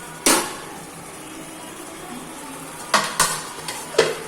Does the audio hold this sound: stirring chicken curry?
yes